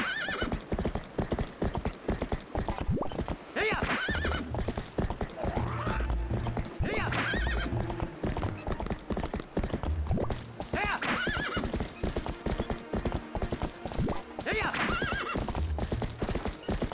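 Horse hooves clip-clop at a steady gallop with repeated whinnies over game music in The Legend of Zelda: Twilight Princess HD, loud and continuous throughout.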